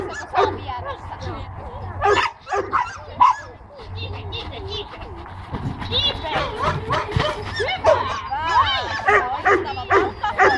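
A dog in a training session barks, yips and whimpers in bursts, close and loud, while a trainer talks over it throughout.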